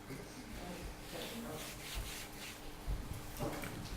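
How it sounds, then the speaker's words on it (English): A pencil eraser scrubbing writing off a sheet of paper, a close, quiet, continuous rubbing with a few slightly stronger strokes. "so I'm going to rub that out now."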